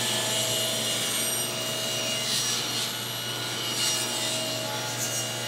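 Wood being jointed along a straight edge of a side piece for a router bit storage cabinet, a continuous loud machine-driven rasp and whir of cutting timber close by, with no voice.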